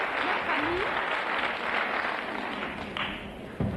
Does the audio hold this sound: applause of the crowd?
yes